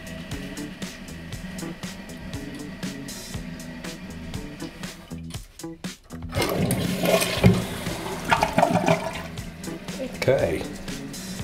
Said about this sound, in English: I got a good flush, but I had to hold it up a second